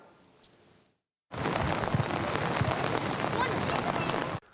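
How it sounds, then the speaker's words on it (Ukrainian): Heavy rain pouring down hard and steady through a children's football tournament match, a dense roaring wash that starts abruptly after a brief quiet gap and runs on without letup. "Проливний дощ, який не вщухав протягом усіх матчів"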